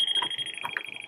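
Steady high electronic beeping from something left on in a house, a continuous tone with pulsed accents, moderately loud with faint background noise.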